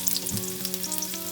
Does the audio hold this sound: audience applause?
no